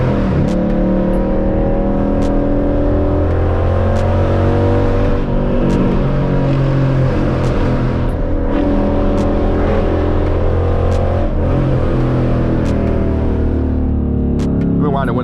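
A Dodge Challenger with a catless exhaust accelerates, its loud, raspy engine drone holding steady and rumbling continuously for about fifteen seconds, with slight rises in pitch as it pulls.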